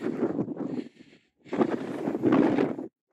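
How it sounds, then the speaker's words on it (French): Gusty wind blows across the exposed Burren coast of Ireland, buffeting the microphone in two loud bursts with a short lull between them. "J'espère qu'avec le vent on pourra entendre ma voix parce que il y a quand même beaucoup de vent"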